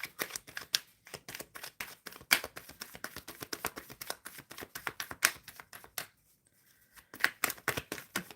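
Tarot cards shuffled by hand during a live card reading, a dense run of crisp riffling flicks and slaps that pause briefly near the end before resuming, close and clear with no talking.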